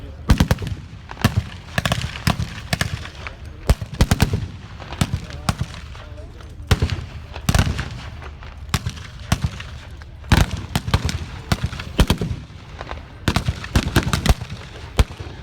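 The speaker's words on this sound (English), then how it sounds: "the German defenders' heavy machine guns, mortars and small arms subject the Americans to sustained fire" Battle reenactment at Tankfest 2017, Bovington, with heavy machine guns, mortars and small arms firing: dense, sustained volleys of sharp reports and rattling bursts, close and loud, with heavier booming blasts mixed in.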